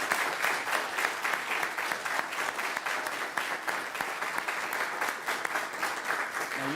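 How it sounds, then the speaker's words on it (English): An audience at a local school event applauds a student football player, a fairly faint, sustained patter of many hands that keeps a loose, slightly pulsing rhythm for nearly seven seconds without speech. "Round of applause."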